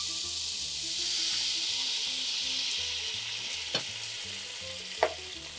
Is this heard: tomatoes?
yes